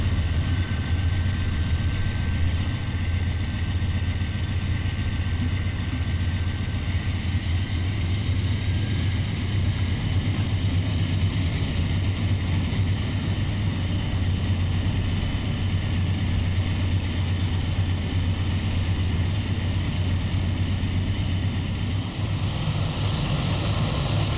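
A GE AC4400 diesel locomotive in Train Simulator 2018 runs under self-load, giving a loud, steady low engine drone with a constant mechanical hum and faint high whine, unchanging for the whole stretch.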